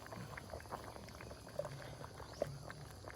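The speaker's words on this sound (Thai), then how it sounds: "พอตั้งทิ้งไว้จนน้ำเดือดปลาเริ่มสุกเนี่ย" A pot of fish curry simmers at a gentle boil, with soft steady bubbling and a couple of small pops, faint and close, with no talking.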